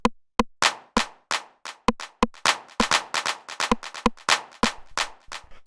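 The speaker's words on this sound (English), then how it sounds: "This 909 rim shot and then this clap," A 909 rim shot and clap trade off in an acid techno pattern, sharp dry percussive hits spaced in a steady interlocking rhythm over about six seconds, with no other sound and no talking.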